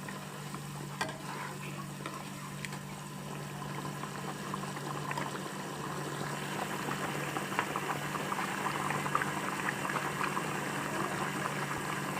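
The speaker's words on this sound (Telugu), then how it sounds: "సరే ఫ్రెండ్స్, చక్కగా ఉడుకుతుంది కదా." Bengali dumpa curry bubbling in a pot, a steady soft simmer with small popping bubbles and faint sizzling running throughout under a low background hum, no voices.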